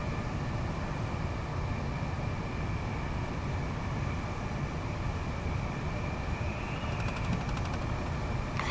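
A London commuter train carriage in Train Sim World 2 rattling at speed during rush hour, a steady loud rumble with a faint high whine and brief metallic rattles near the end.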